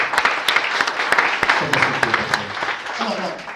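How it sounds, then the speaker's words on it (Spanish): A church congregation claps steadily during a service, the dense applause carrying sharp individual claps, with a voice speaking over it. "Den un aplauso a nuestro Señor Jesucristo."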